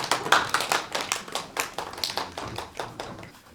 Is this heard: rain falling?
no